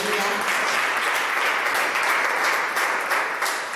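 A church congregation applauds during a French-language sermon, with steady, dense clapping from many people filling the room at an even loudness throughout.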